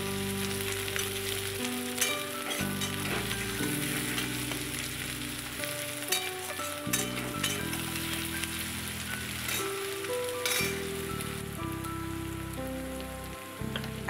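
Slit green chillies and crushed garlic fry in hot oil for a Katla fish jhuri, giving a steady, dense sizzle and crackle that runs throughout with no talk over it.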